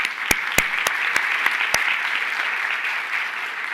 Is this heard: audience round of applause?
yes